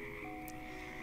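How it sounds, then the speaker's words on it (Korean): Frogs croak steadily in a forest pond at night as a storybook sound effect, a soft continuous chorus heard alone without talk. "그 소리를 들은 숲속의 물고기들과 개구리들은"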